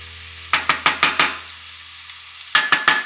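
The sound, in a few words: garlic and onions sautéing in a pan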